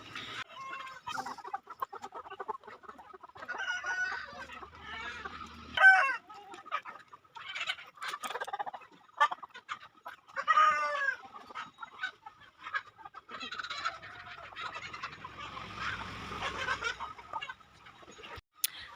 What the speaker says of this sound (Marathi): आमचे कोंबडे आरवतात आणि कशी आरवतात किती आवाज करतात